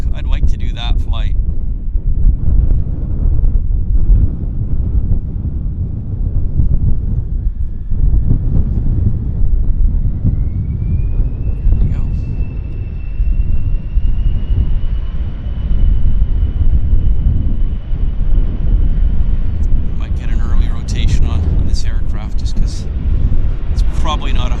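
An Air North airliner departs Vancouver YVR bound for Kelowna, a steady distant engine roar with a rising whine, buffeted by wind noise and heard under ongoing talk.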